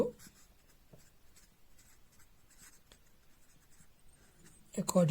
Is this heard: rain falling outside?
no